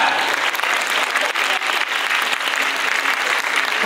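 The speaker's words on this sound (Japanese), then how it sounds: "はい、拍手です、拍手。" Audience at the Universal Monsters Live Rock and Roll Show at Universal Studios Japan claps steadily and densely, a close, continuous wall of applause with a faint voice underneath.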